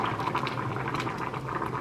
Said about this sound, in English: Which is instantly boiling because it was already hot.